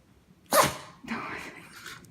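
A small shih tzu dog sneezes sharply once, close by, followed by snuffling breaths, with someone talking softly around it.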